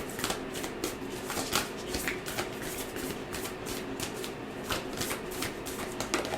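Tarot cards being shuffled by hand, a steady crisp riffling with repeated soft slaps and flutters, close and continuous for several seconds.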